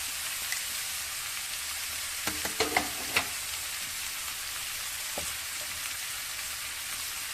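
Ginger-garlic paste fries in hot oil for a cauliflower curry, giving a steady close sizzle throughout with a brief cluster of utensil clicks and scrapes near the middle.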